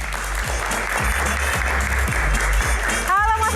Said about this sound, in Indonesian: tepuk tangannya dong, lebih keras lagi